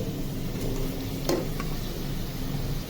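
Lotus stem (bhe) sizzling in a frying pan with spices while a spoon stirs it, a low steady frying hiss with one or two faint scrapes, close and without voices.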